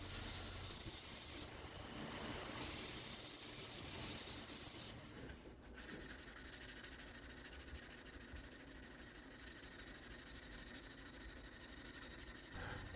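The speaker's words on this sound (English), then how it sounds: "So here I'm getting the whole knife to a 220 grit, and I'm rounding over the spine and all the sharp corners" Sanding a Damascus chef knife with a gator skin mosaic pattern to 220 grit, rounding over the spine and corners, heard as a continuous faint grinding hiss with a brief shift in tone partway through.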